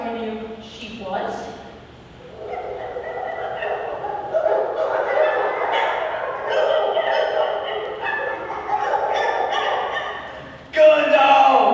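A dog barks and yips several times in a middle-school stage production, short bright barks and whimpers mixed in among theatrical voices and music.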